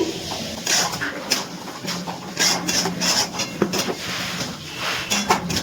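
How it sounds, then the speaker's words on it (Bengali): Whisked yogurt being stirred into chicken in a pan on a low gas flame, with a spatula scraping and knocking against the pan in irregular strokes, close up and moderately loud. "ভালো করে নাড়াচাড়া করে টক দইটা মাংসের সাথে মিশিয়ে নিচ্ছি"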